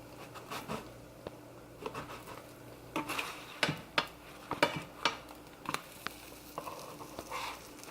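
Protein pancakes in a pan being flipped, with faint sizzling under sharp intermittent clinks and scrapes of a utensil against the pan, quiet and close.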